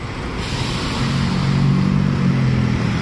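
A sleeper bus pulls away hard on the road, its low diesel engine drone rising and holding steady as it accelerates, with a constant broadband traffic roar around it and no talking.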